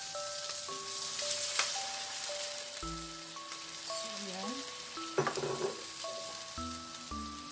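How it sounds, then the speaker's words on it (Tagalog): A pot of beef broth bubbling and sizzling steadily with a dense crackle, while music with sustained tones plays over it. "Kumukulo na yung ating broth"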